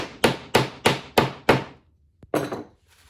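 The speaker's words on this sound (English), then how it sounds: "We're going to insert the T-nut and pound it into place." A T-nut is pounded into a countersunk hole in a wooden bed frame with five evenly spaced, loud close hammer blows, then a short pause, a light tap and one last duller strike.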